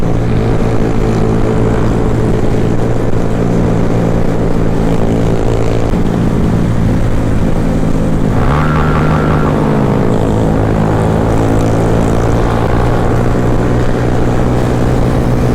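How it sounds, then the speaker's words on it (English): Small-bore motorcycle engine droning loud and close, held steady near its rev limit, with a brief pitch swoop in the middle before settling back to a constant buzzing whine. "The old rev limiter wave doesn't get old on these things."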